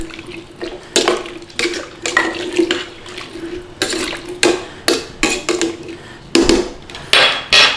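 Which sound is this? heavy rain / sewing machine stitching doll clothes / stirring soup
stirring soup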